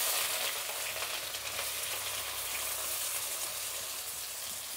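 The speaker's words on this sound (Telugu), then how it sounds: "ఆవాలు చిట్లపట్ల అన్నాక ఇప్పుడు ఎర్రగడ్డ వేసుకుంటాము" Chopped onion dropped into hot oil with spluttering mustard seeds for a Telugu pulusu, a loud, close, steady hissing sizzle with no talk.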